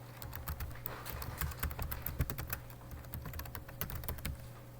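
Rapid typing on a computer keyboard while an email address is entered, a close, steady run of light clicking keystrokes with no talk.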